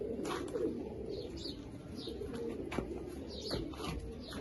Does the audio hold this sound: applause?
no